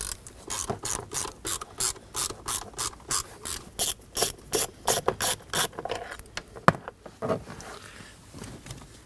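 A hand ratchet clicks in quick repeated bursts, close up, while backing out a T20 screw from the steering column cover of a 2014–2023 Ford Transit Connect during an ignition switch replacement.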